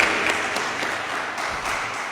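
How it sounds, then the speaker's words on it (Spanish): A church congregation at a Spanish-language worship service claps in sustained applause, with a few sharper claps standing out from the steady wash and no talking over it. "Dele ese aplauso al Señor."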